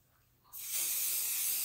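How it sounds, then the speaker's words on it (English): Temporary spray adhesive hisses from an aerosol can onto embroidery material, a steady close spray that starts suddenly and continues without pause. "then we're going to spray that with spray adhesive."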